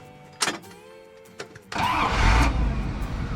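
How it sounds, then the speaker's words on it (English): An old carbureted Ram truck engine cranks briefly, catches and fires up, settling into a loud, rough idle close by with no talking. "that thing just fires right up. How awesome for an old carbureted engine."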